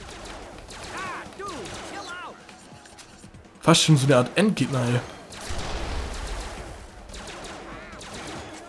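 Bursts of gunfire from the Family Guy multiverse video game, a loud rapid cluster of shots and impacts midway, with someone talking over the game sounds before and after.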